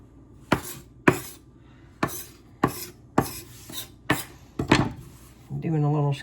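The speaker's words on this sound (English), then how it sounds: "Got to cut this dough in half." A knife cuts bagel dough in half on a board, making about seven sharp, evenly spaced knocks up close. A short burst of voice follows at the end.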